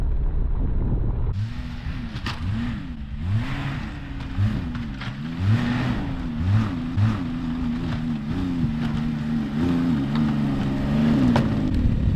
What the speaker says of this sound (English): I was able to ride the sled right up into this campsite here